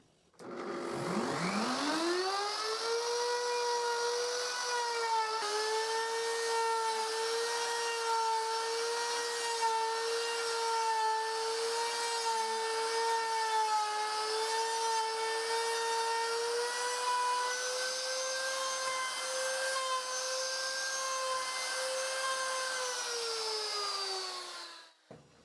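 Router cutting a mortise in a wooden strip held in a woodworking jig: the motor spins up, then holds a loud, steady whine close by for about twenty seconds before winding down, with no talk.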